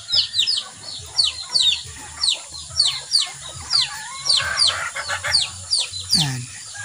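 Penned chickens cluck and squawk while being fed among caged birds such as doves, a steady run of close, repeated calls with a voice heard briefly.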